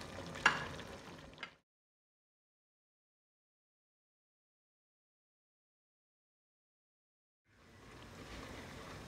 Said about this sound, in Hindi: मीडियम फ्लेम पर इसको केचप को फ्राई करें।